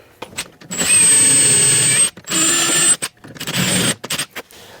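A power drill whines loudly in several bursts, drilling into a vending machine's metal lock with short pauses and a high-pitched squeal between runs.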